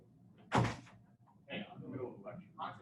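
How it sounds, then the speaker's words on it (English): A knock or thump at a door lands as one loud, brief impact early on during an online lecture, followed by muffled speech from someone nearby. "Someone's knocking on my door."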